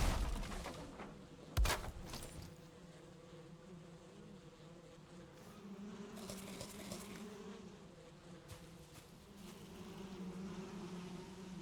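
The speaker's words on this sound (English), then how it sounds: "If they're buzzing around, then they're happy." Bees swarm around a hive in the survival game Valheim, a steady droning buzz that carries through the whole stretch with a sharp thump near the start and brief swells of louder buzzing.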